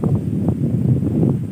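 Strong wind beside a river buffets the microphone in a continuous low roar with gusty surges. No one speaks.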